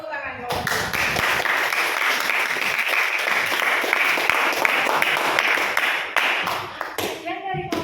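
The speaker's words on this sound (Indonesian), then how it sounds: "Oke, kita kasih tepuk tangan." A classroom audience claps steadily for several seconds after a group's presentation, loud and dense, with the applause tapering off near the end and a brief voice coming in.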